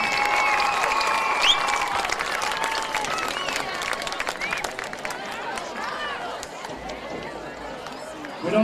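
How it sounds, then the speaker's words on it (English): A crowd in the stands at a Lander Valley High School homecoming football game applauds, sustained clapping mixed with cheering and chatter, loud and fairly even before it thins out slightly near the end. "Please give this young lady a big round of applause."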